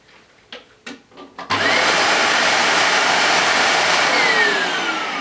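A Dyson DC40 Multifloor upright vacuum cleaner sits quiet with a few soft handling knocks, then its motor switches on abruptly and runs at a steady, loud, close whine, easing slightly toward the end.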